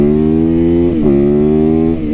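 Yamaha YZ supermoto with a cable throttle idles high and steady, its engine note dipping briefly near the middle before settling back, loud and close throughout with no voices.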